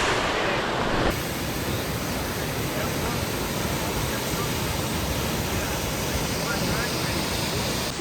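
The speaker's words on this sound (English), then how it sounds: "Oh, there's a waterfall right here." Waterfall beside the Route of the Hiawatha bike trail in Idaho, a steady broadband rush of falling water heard up close with heavy wind buffeting, continuous and loud.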